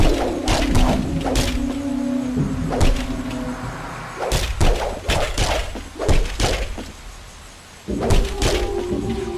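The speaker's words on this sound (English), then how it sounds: "Press the X button, followed by the modifier, in this case the circle button, to do a more elaborate and powerful combo attack." A combo attack lands in The Mark of Kri on PlayStation 2, a series of loud thuds, whooshes and impacts in uneven clusters over a steady game background.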